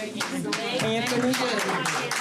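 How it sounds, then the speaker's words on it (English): Clapping for a student honored at a school board business meeting, a moderate round of hand claps with distinct individual strikes, mixed with voices talking underneath. "Please help me once again giving Anthony a round of applause"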